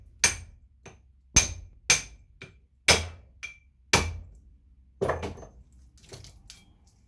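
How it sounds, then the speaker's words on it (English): A 3-pound hammer strikes a steel shaft used as a drift to knock laminations out of a transformer, giving about eight sharp, ringing metallic blows at an uneven pace, close and loud, some followed by a lighter rebound tap. "Take your trusty drift, which is a piece of shaft in this case, and a 3-pound hammer."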